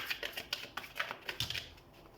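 Tarot cards being shuffled and handled, a quiet run of soft papery riffles and taps in an uneven rhythm, close and low in level, with no talking.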